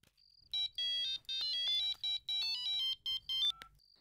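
A mobile phone rings with an incoming call, a bright electronic ringtone of repeated short melodic beeps in a steady rhythm, close and clear with no talking.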